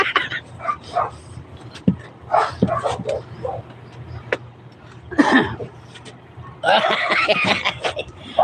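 A dog barks in scattered bursts, some sharp and some muffled, with pauses between them and a busier stretch near the end.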